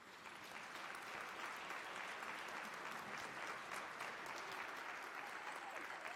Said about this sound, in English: can we just give a round of applause to our panelists?